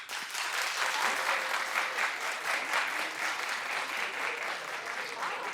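A TV talk-show studio audience claps in a sustained, lively burst, with pulsing waves of hand claps and faint crowd murmur beneath, fairly close and full throughout.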